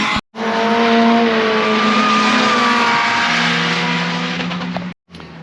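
A supercar at Knockhill circuit screams past at high revs, a loud sustained engine note rising and shifting in pitch as gears change, heard from trackside before cutting off abruptly.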